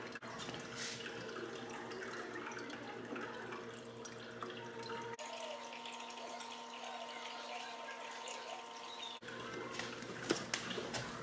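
Water runs and trickles steadily into an iDoo 7-pod hydroponic indoor garden, a continuous splashing flow with brief pauses, close by and moderately quiet, with no talking over it.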